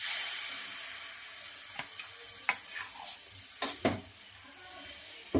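Batter sizzles softly on a hot, lightly oiled griddle (chatu) while patishapta pitha is made, a steady frying hiss with a few sharper clicks and taps of utensils, fairly close and without talk.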